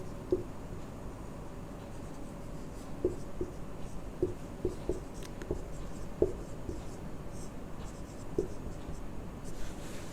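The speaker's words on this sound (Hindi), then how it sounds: "लीजिए अब यहां लिखते हैं राधा" Chalk or marker writing on a board, a steady run of short scratchy strokes and taps at close range, with no talk over it.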